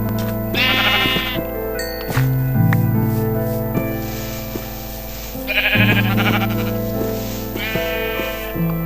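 Minecraft sheep (game version 1.5.2) bleat in several short, nasal bursts, one early and a pair later on, close and clear over a steady background hum and tones.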